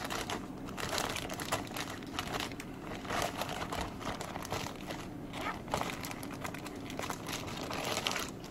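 A plastic zipper baggie being handled: steady close crinkling and crackling rustle that continues throughout at moderate loudness, with no clear speech.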